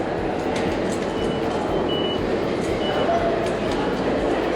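A continuous low rumble of trains in a busy train station in central Osaka, Japan, with a faint murmur of voices in the background.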